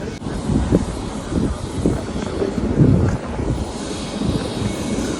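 A parked airplane at an airport in Tanzania gives off a low, steady engine rumble, with wind buffeting the microphone and no speech.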